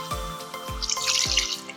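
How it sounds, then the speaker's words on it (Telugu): Water poured into chicken pulusu (chicken curry) simmering in a pan makes three splashing pulses with dripping, followed by a soft watery hiss. There is no talk. "2 నిమిషాలు మగ్గింది కదా, కొంచెం వాటర్ వేస్తాం."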